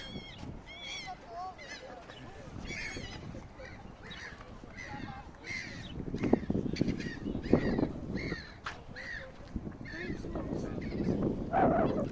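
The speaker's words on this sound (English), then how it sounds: "A lot of seagulls here." Repeated harsh seagull cries ring out over a steady rush of the fast-flowing Angara River in Irkutsk, Russia, several calls overlapping at moderate distance throughout.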